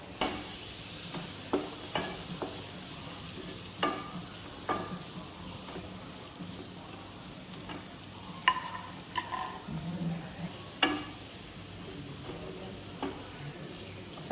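Chopped tomatoes sizzle in a frying pan over ginger and garlic, a soft constant frying hiss broken by irregular scraping clicks as a spoon stirs and knocks the pan.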